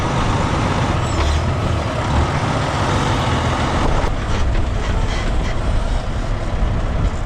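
A loaded grain truck rumbles loudly and steadily up close while heading to unload at a grain bagger, its engine drone constant with a brief hiss partway through.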